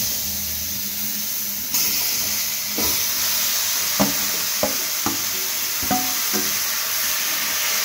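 Chicken pieces dropped into a hot pan for oil-free lemon pepper chicken give a steady, loud sizzle that jumps as they go in, followed by several sharp clacks and stirring scrapes against the pan.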